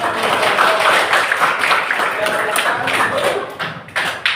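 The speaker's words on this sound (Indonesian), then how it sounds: "terima kasih tepuk tangan" Schoolchildren in a classroom clap their hands together, a loud, close and somewhat uneven burst of clapping that thins out with a few scattered taps at the end.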